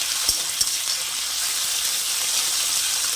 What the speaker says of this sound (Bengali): তো পেঁয়াজ, কাঁচা লঙ্কা, আদা রসুন বাটা ওটা দিয়ে দেবো। এবার আমি ভালো করে কষিয়ে নেব।